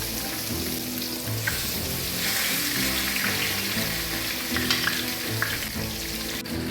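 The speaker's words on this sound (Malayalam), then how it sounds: "ഞാൻ ഇത് വറുക്കാൻ വേണ്ടിയിട്ട് കുറച്ച് കൂടുതൽ എണ്ണ ഒഴിച്ച് വേണം വറുക്കാൻ." A whole large fish fries in plenty of hot oil in a pan for an Odia-style dish, giving a steady, dense sizzle and crackle that fills the whole stretch without talk.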